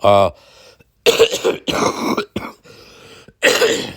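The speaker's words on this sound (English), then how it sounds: "sorry, COVID cough." Several harsh, throaty coughs from a person with COVID, with throat clearing in quick bursts, close to the microphone, separated by short pauses.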